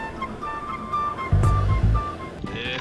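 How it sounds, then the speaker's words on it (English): Sea waves slapping against a small rowing boat, a heavy thudding surge of water hitting the hull midway with wind noise around it and a final splash. "If I head straight at the waves,"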